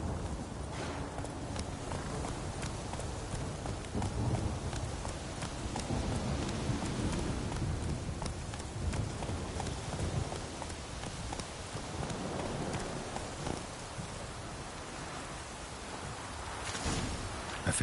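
Roach, Geralt's horse in The Witcher 3, walks with steady clip-clop hoofbeats over a constant wash of rain-like ambience, the footfalls continuous and fairly close throughout.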